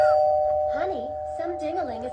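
A sustained electronic doorbell tone rings while a voice speaks over it, the chime fading slowly in the background.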